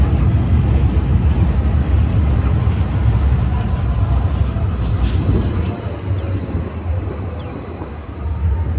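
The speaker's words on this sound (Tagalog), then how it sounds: "So may train dito." A train passes in Calgary with a steady, loud, low rumble of rolling wagons. The noise holds for several seconds, then eases slightly toward the end.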